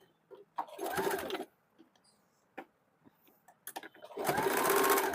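Sewing machine stitching a two-piece blouse: short whirring runs of stitching separated by pauses and small clicks, with a longer louder run at the end, fairly close.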